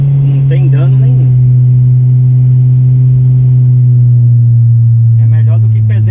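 Steady low engine drone inside a Nissan automatic car during braking and the shift into first gear, holding a constant hum while someone talks at the start and end.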